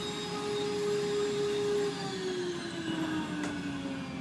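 A vacuum cleaner with a clogged filter runs steadily with a strained, droning motor whine that slowly drops in pitch, no rush of airflow, close and continuous.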